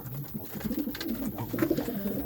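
Pigeons coo softly at an old wooden dovecote, a few low throaty calls close by in quiet surroundings.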